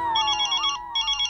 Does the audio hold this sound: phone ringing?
yes